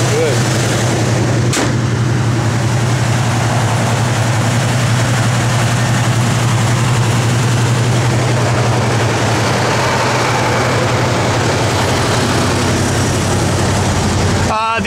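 A freshly started 1970 Buick Gran Sport idles with a loud, steady low engine rumble and an even beat that runs unbroken for the whole stretch.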